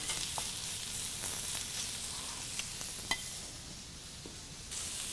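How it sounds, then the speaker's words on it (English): Lamb meat searing on a hot, nearly smoking comal griddle pan, giving a steady broad sizzle with a few soft pops and ticks, close and continuous. "I want to cook it without stirring for just a moment until we begin to get a little color on it"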